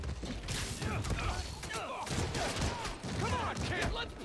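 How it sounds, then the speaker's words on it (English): Gunfire crackles in the Spider-Man: Miles Morales video game amid rush-hour traffic, a dense, continuous fusillade of sharp reports mixed with mechanical clatter and creaks, loud and busy throughout the scene. "Weapons discharged amid rush hour traffic."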